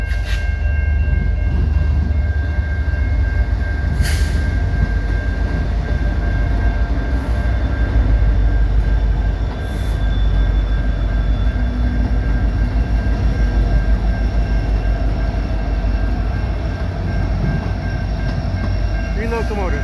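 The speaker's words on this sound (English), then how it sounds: "Looks like I got some switchers here" A CN freight train pulled by three switcher locomotives passes at St Ambroise Street in Montreal in the rain, a loud continuous rumble with steady wheel noise and faint horn-like tones.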